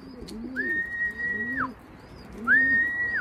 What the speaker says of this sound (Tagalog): may isa na naman tayong ibon dumating